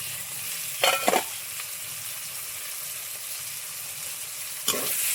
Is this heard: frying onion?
yes